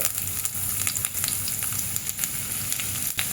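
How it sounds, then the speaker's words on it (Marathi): Finely chopped garlic fries in very hot ghee for a dal tadka, giving a dense, continuous close-up sizzle without pause or talk. "खूप गरम झाल्यावर आपल्याला घालायचं आहे आठ ते दहा लसूण एकदम बारीक चिरून घेतले"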